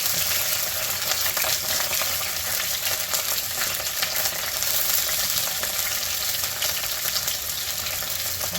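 Ginger and garlic fry in hot oil with fenugreek and curry leaves for a home fish curry, giving a dense, continuous close-up sizzle that stays loud and even throughout.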